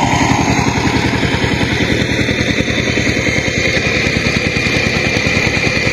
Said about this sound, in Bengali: এটা হলো ডিপ মেশিন, এই মেশিনটা জল দেয়।